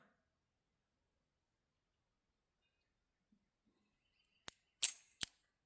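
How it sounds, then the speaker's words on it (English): A .32 S&W Long handgun is dry fired at a shooting range, giving three quick, crisp mechanical trigger clicks close by after a long near-silence. "Try some dry firing."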